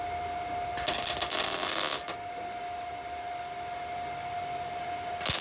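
Welding on the steel bonnet of a David Brown 990 Selectamatic tractor gives one crackling, hissing burst lasting just over a second. A steady electrical hum follows, with a brief crackle again at the very end.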